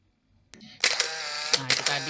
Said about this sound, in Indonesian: Nah, itu tadi adalah suara efek kameranya.